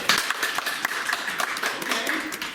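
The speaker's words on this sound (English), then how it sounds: "actually a quick round of applause" A brief round of applause from a small group, with dense, steady clapping that holds at an even level throughout.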